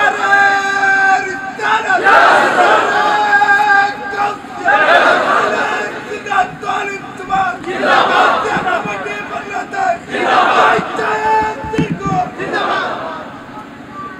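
A large crowd of young men at a Bengali religious sermon shouts Allahu Akbar in loud, repeated bursts, swelling and falling roughly every two seconds across the whole stretch.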